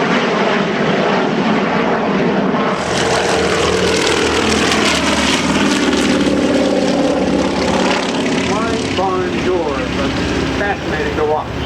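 A WWII-era airplane flies at a Virginia Beach airshow, its propeller engine roaring loudly and steadily, swelling as it passes nearby, with an announcer talking over it.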